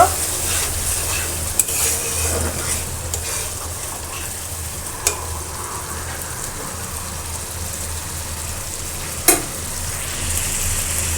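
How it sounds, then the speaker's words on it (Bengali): Water poured onto fried spice masala with chilli makes the pan hiss in a steady, rain-like sizzle, with occasional sharp spoon clacks against the pot while the mixture is stirred. "এখন একটু পানি দেবো এখানে একটু পানি দিয়ে দিচ্ছি দিয়ে এটা সুন্দর করে কষাই করে নেব"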